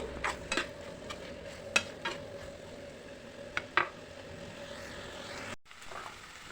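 Tomato pieces and green chillies fry in oil with a soft, continuous sizzle, punctuated by a few clinks of a spoon stirring against the pan.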